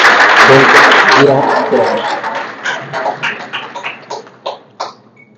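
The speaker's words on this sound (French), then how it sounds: "je demanderai donc à toute la salle d'applaudir tous nos chefs de service qui nous ont accompagnés" A hall audience applauds the heads of service, starting as a loud, thick round of clapping that thins into scattered individual claps and dies away with a few last hits.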